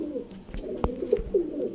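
Teddy pigeons kept by a pigeon fancier in Sialkot give a few soft, close coos with faint wing and foot clicks in between.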